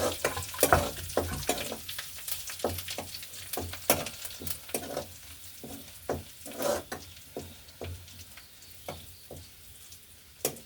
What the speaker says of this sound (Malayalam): ഇതിലേക്ക് നമുക്ക് ആ കരിയാപ്പില ഇട്ട് കൊടുക്കാം.